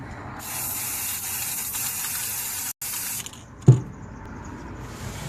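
Continuous hissing spray from an aerosol can runs for about three seconds with a brief break, then stops with a light clunk.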